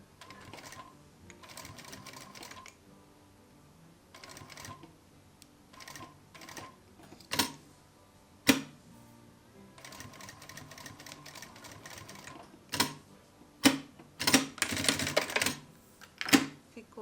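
A sewing machine stitches denim strips in short bursts of rapid mechanical whirring, stopping and starting repeatedly with sharp clicks and clatters between runs, growing louder and busier toward the end.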